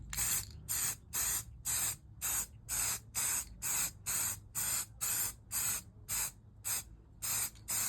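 Aerosol can spraying black paint onto boiler install clips, about fifteen short even hissing bursts in a steady rhythm, close and clear with no talk.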